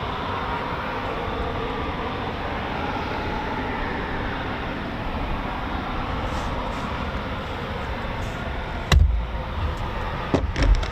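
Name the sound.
Eurofighter Typhoon jets taxiing at RAF Coningsby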